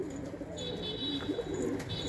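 Pigeons coo softly in a flock of around sixty birds kept on an Istanbul evening, low murmuring calls close by with a faint high tone running beneath.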